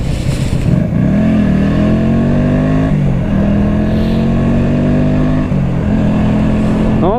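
A Honda Shadow VT125 motorcycle engine revs loudly up close, its pitch climbing and falling in several repeated throttle blips with a steady idle between them.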